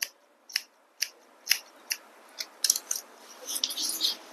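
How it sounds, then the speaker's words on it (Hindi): Scissors snipping thin hair during a beginner's haircut, a steady series of crisp, close snips about every half second, quickening into a denser cluster of cuts toward the end. "ये वाले बाल काटने हैं इधर की तरफ लाके, और इस तरफ काट दिया।"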